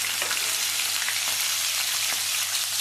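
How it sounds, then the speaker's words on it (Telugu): Fish turned over and frying in a pan of hot oil gives a steady, dense sizzle throughout, with a few soft crackles and a low hum beneath, and no voices. "మళ్ళీ తిరగేసుకొని వేయించుకుందాము"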